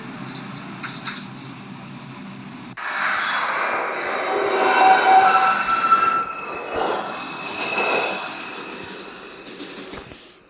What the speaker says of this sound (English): This is a Bronx-bound 1 train.